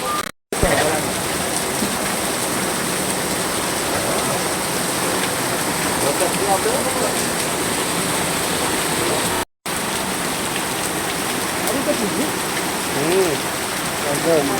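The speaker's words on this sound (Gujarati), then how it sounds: "પાળિયાદમાં ધોધમાર વરસાદ" Heavy, steady downpour of torrential rain with wind in Paliyad village, Botad district, Gujarat, a dense continuous roar with two momentary dropouts.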